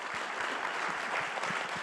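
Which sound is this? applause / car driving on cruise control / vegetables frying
applause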